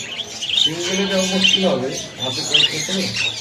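Caged birds, including lovebirds, squawk and chirp inside a bird shop, sharp bright calls recurring over a steady background while people talk nearby.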